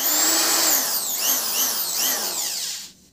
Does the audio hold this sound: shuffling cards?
no